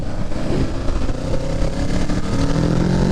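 A 2023 Kawasaki Ninja 650 motorcycle accelerating on a test ride, its engine roaring loud and close with a rising, sustained mid-pitched drone mixed with wind rush.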